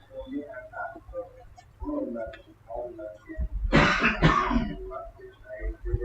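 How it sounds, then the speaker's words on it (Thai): During a Thai Buddhist dharma radio talk, a monk with a slight cold clears his throat and gives two close, harsh coughs between stretches of soft, quiet speech. "ไอเสียงกระแอมก็ขออภัยด้วยเนอะ"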